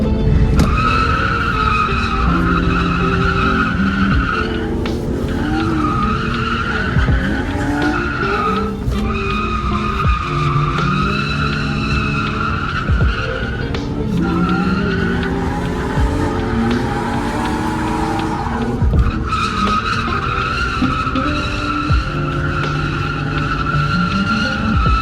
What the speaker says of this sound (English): Oh my god, the super drifting.